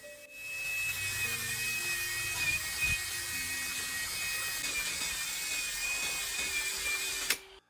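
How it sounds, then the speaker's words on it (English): A small electric drill whirs steadily and continuously at close range, mixing cement into a glue solution, with a faint scraping undertone, ending abruptly. "Keep the drill moving slowly so the cement mixes evenly into the glue solution."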